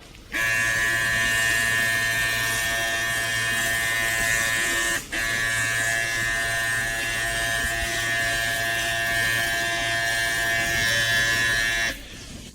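A battery pressure sprayer runs steadily for about twelve seconds with a loud, constant motorized hum and hiss, briefly dipping near the middle as water rinses wheel cleaner off a car wheel.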